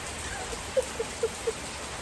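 Steady hiss of moderate Oklahoma rain falling on surfaces, with a few distinct drips tapping in a loose rhythm, fairly close.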